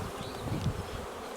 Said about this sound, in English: tap the rest of these bees in.